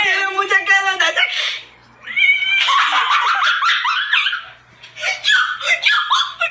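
A cat meows in a run of repeated, drawn-out cries, loud and close, with short pauses between the calls and a brief quiet gap partway through.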